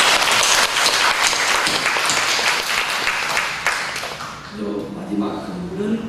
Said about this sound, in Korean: 큰 박수 한번 드리겠습니다